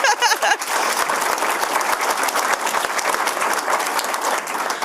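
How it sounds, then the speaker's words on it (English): A crowd applauding at a city oath of office ceremony, heard as a dense, continuous wash of clapping that swells after a brief opening, fairly loud and steady to the end. "give Steve a round of applause."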